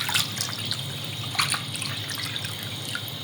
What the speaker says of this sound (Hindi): इतना पानी डालना है कि ये अच्छी तरह से कवर हो जाए कलेजी इसमें